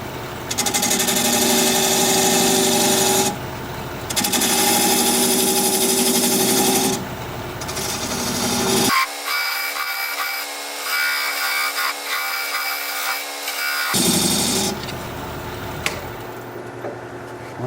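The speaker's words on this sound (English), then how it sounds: "I'm going to switch to a 3/8 inch gouge to make the tenon" Walnut turning on a wood lathe with a 3/8 inch gouge cutting a tenon: a loud, steady whirring and scraping with tonal hum. It breaks off briefly, then quieter cutting follows for several seconds before the loud turning resumes.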